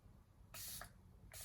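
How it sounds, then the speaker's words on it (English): Makeup setting spray hissing out in two short, close bursts, the first about a quarter second long and the second starting just as the clip ends, with no talking. "I think the setting spray is dry."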